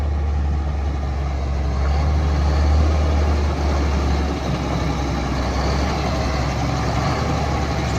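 A 1999 Mack RD688S truck engine runs steadily with a deep diesel rumble and a constant low throb, heard close and loud throughout, with no talk.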